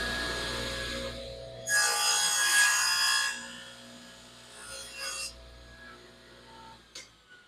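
A Delta table saw with its blade set about halfway up cuts through wood in a loud, whining burst of about two seconds, followed by quieter spin-down and a few softer handling knocks.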